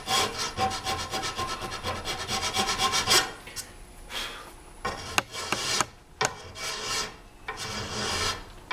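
Wood being filed on a take-down longbow, heard as rapid rhythmic rasping strokes close up, continuous at first and then breaking into shorter bursts with brief pauses.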